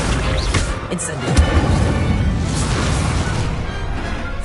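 Incendio fire spell cast in Hogwarts Legacy, a loud rushing burst of flame with a booming crackle that roars on throughout the short moment.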